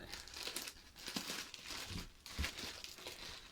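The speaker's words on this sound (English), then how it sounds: "Let's get rid of this tape carefully" Tape is peeled carefully off a PlayStation 3 box, producing close crinkling, crackling and tearing bursts, fairly quiet and continuous with brief pauses.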